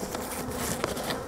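Dense, continuous buzzing of many honey bees at a beehive, a steady close swarm hum with small flickers of wingbeats and no voices.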